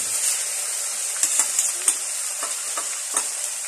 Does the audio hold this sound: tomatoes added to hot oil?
yes